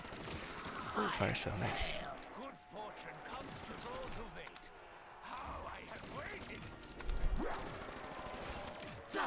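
Gunfire in Black Ops 3 Zombies, scattered bursts and shots mixed with game effects throughout, with someone talking over the action.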